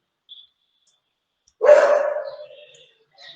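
A single dog bark sounds clearly in an otherwise quiet room, one short, close bark that trails off, with a faint tiny noise just before it and another right after.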